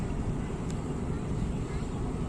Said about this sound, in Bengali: আর এই যে ট্রলার যাচ্ছে এখানে